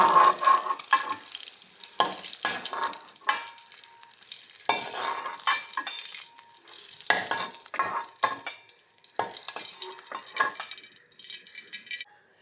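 Eggs fry in oil in a pan with a steady broadband sizzle, broken by repeated scraping stirs and light utensil clatter against the pan; close and fairly loud, with no voices.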